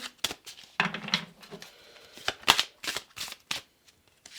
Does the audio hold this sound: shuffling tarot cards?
yes